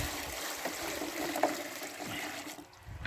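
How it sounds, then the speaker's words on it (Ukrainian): Water from a measured 7–8 litre pour runs steadily into a bucket of lump quicklime, a continuous close splashing and trickling for about three seconds. "Вливаємо в це комове вапно 8 літрів, 7 літрів води."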